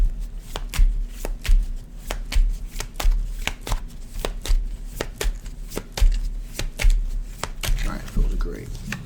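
Tarot cards are shuffled repeatedly in a quick, irregular rhythm of crisp riffling snaps close by, with a voice speaking over the shuffling.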